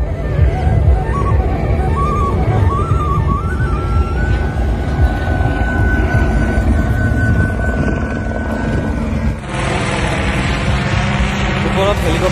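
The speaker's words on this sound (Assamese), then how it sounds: "ওপৰত হেলিকপ্টাৰ, হেলিকপ্টাৰ চলি আছে," A helicopter flies overhead near a river at the Dwijing Festival, its loud rotor and engine drone holding steady throughout with a shift partway through, while voices are heard alongside.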